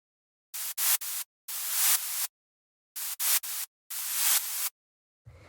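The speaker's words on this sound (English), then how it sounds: "just some white noise, a little bit of a high pass, got a side chain" Bursts of high-passed, side-chained synthesized white noise in a tech house track hiss in a rhythmic pattern of short and longer hits, separated by abrupt silences.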